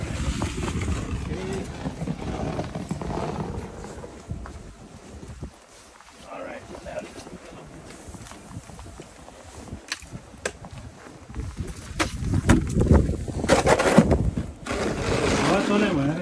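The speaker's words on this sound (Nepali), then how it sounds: "हावा चलिरहेको छ" Strong wind during a snowstorm in Canada buffets the microphone with a rough, rumbling roar that dips in the middle and surges louder toward the end.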